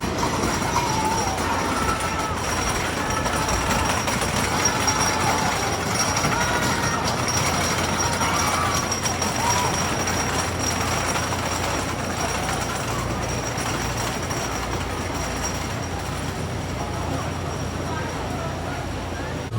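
A roller coaster train at Carowinds rolls along its track with a continuous rumbling clatter and faint wheel squeal, holding steady and close for the whole stretch, while people talk over it.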